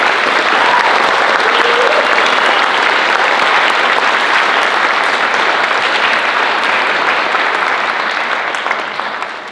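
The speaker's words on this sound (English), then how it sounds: "Could we have a round of applause for that last one more time" Sustained, loud applause from a concert audience after a school band piece, dense clapping filling the hall steadily before tapering slightly at the end.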